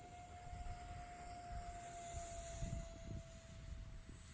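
An RC model F-35 Lightning jet rolls out at an outdoor flying field, its electric ducted fan giving a steady, fairly quiet high whine over low wind rumble.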